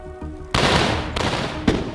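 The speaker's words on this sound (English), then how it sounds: "Oh my god, who's shooting at me?" Gunfire erupts in the Walking Dead VR video game: sharp, loud overlapping shots come in a dense burst after a brief quieter start, with another distinct crack near the end.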